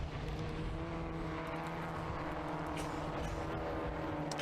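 Classic Stock Hatch race cars lapping the Brands Hatch Indy circuit, a steady loud wash of engine drone with tonal whine, no distinct single pass-by standing out, no talking.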